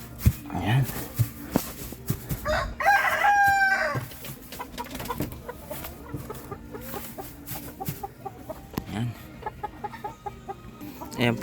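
Chickens on a small chicken farm cluck repeatedly close by, with a rooster crowing once early on, and scattered rustling and clucks continue throughout.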